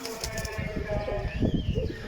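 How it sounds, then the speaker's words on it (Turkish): Breeding pigeons fight with flapping wings and low cooing, close by, mixed with rustling and background noise in a pigeon coop. "kuş kavga ediyor damızlık"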